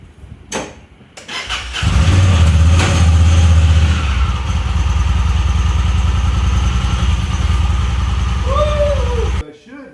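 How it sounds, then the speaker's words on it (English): A Talon car on a homemade air ride suspension set to 80 PSI starts and idles loudly and steadily for several seconds up close, with a brief burst of talk before the engine turns over. "I'm going to get in it and try to drive it and see if it bottoms out when I roll forward"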